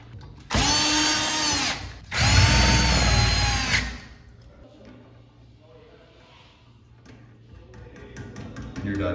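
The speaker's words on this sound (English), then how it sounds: "Reinstall the screws." Two bursts of a power drill driving screws back into a Grohe Posy shower cartridge, each whining loudly for about one and a half seconds in quick succession, followed by quieter handling noises and faint background sounds.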